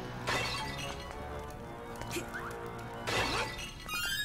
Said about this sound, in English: I'm gonna smash everything.